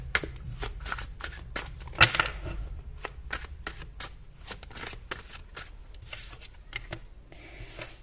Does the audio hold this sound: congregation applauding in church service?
no